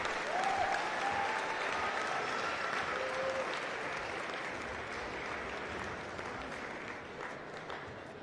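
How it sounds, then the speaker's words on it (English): Sustained applause from a large crowd at the Kabaddi World Cup 2025 finals, honouring Ashok Das with a special award; dense, steady clapping that fills the space and fades slightly toward the end, with brief voice fragments above it. "Round of applause for Ashok Das"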